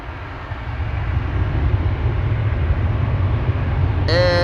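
A Boeing 787 Dreamliner taxiing at Amsterdam Schiphol Airport gives a steady, broad rumbling roar from some distance, with a brief rising tonal whine cutting in at the very end.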